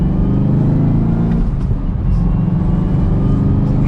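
A 2021 Chevrolet Camaro ZL1 with a manual shifter accelerates hard, its engine a loud, deep, continuous roar heard from inside the car.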